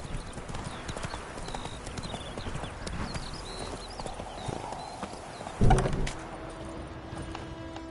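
The horse Roach gallops in The Witcher 3 with rapid, rhythmic hoofbeats over an ambient game soundscape, and a heavy thump lands near the end.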